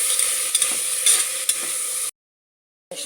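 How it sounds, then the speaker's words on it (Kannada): Onion and tomato with spices fry and get stirred in a pan for a mushroom biryani, loud, steady sizzling with scraping spoon strokes, then a sudden silence before the sizzle returns briefly. "ಎಲ್ಲ ಚೆನ್ನಾಗಿ ಮಿಕ್ಸ್ ಮಾಡ್ತಾಯಿದ್ವಿ."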